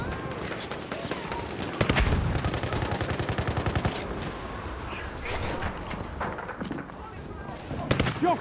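An enemy machine gun fires in a video game battle in fast, evenly spaced bursts, loudest in the middle, with scattered shots and other battle noise around it and a voice talking over the top.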